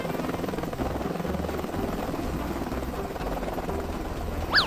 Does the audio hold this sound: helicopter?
yes